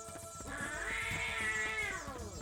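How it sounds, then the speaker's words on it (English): A drawn-out, rising and falling meow from the shinobi cat in Tenchu: Shadow Assassins, a single clear cat call lasting about two seconds, loud and close, with no talking over it. "this will be your first time seeing the shinobi cat"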